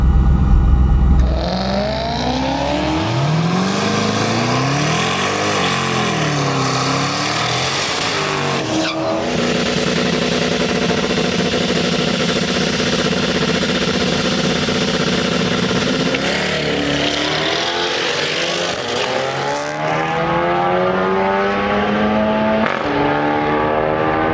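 A twin-turbo Mazda RX-7 roars loudly and continuously down a drag strip, engine pitch climbing through the gears with brief dips at each shift, close and alone without voices.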